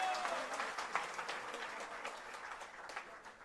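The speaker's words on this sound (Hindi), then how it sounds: "ताली बजा करके।" An audience claps together in sustained applause, a dense patter of many hands that is loud at first and eases slightly toward the end.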